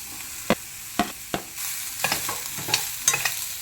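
Spring onion pieces sizzling in a pan for a restaurant-style vegetable soup, with sharp spatula scrapes and stirs at irregular intervals over a steady close frying hiss.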